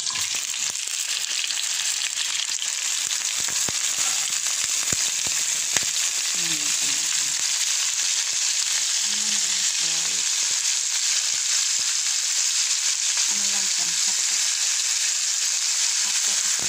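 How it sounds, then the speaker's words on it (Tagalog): Onion rings fry in hot oil with a steady, loud hiss and sizzle throughout, close up, with faint stirring clinks and brief low background sounds in the middle. "iprito na natin ang onion rings."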